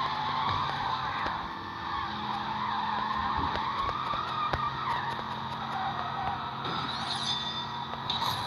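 Game car in Need for Speed No Limits drifting, with a continuous skidding screech and engine roar layered with game effects, steady and loud for the whole stretch.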